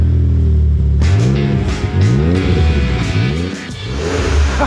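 A modified BMW 335i Touring with a newly fabricated quad-outlet exhaust and fresh mufflers revs repeatedly, loud and close, each blip rising and falling in a steady rhythm with no talking.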